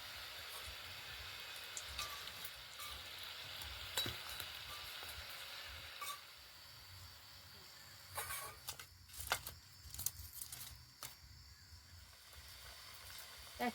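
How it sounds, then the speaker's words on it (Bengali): Potato-stuffed snacks fry in hot oil with a continuous close sizzle and hiss, and a few clattering stirs and knocks of a utensil break in partway through. "একইভাবে বাকিগুলো ভেজে নেব।"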